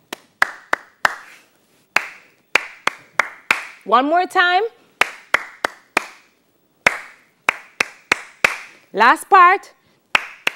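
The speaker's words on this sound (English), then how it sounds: "So let us clap this part." Rhythmic hand clapping in a theatre arts class, sharp single claps in a steady pattern, close and loud, with a voice briefly speaking and humming between groups of claps.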